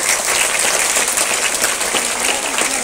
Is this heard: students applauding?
yes